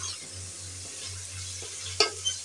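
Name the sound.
spices being sautéed in oil for egg biryani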